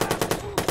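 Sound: assault rifle gunfire in video game Watch Dogs

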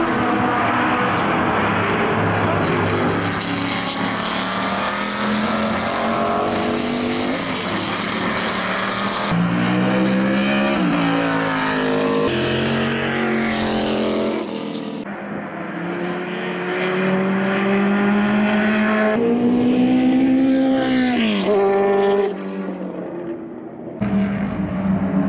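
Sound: British sports race cars (Lola, Chevron, Elba) racing on track

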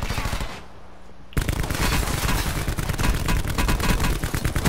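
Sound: gunfire in video game Call of Duty Black Ops 4

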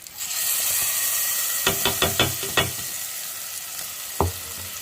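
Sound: tomato onion paste added to hot pan, sizzling

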